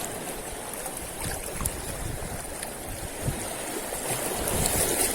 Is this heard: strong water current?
yes